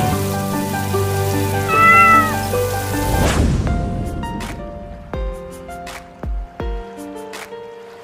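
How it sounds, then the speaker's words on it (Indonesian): A cat meows in a few rising calls over a musical backdrop in the video game Sakura School Simulator, followed by sparse plucked tones and light tapping. "kamu jangan gigit aku ya, kucing manis"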